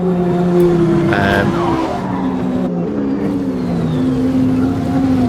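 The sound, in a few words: car crash on first corner in racing video game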